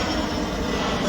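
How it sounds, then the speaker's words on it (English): A plane flying overhead, a loud, steady broadband engine roar filling the whole moment without a break, no voices. "Oh, maybe that plane wants to come in."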